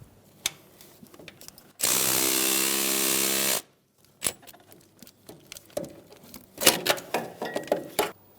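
Power tool with a 13mm socket running on a starter bolt of a 2007-2017 Ford Expedition 5.4L V8, one steady loud whir lasting under two seconds, then scattered clinks and rattles of tools and parts.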